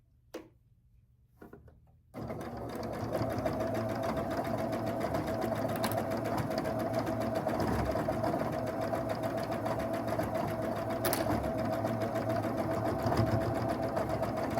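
A sewing machine stitches a quilt block with a steady, fast mechanical whir and ticking that starts abruptly after a brief quiet moment and runs continuously at even loudness.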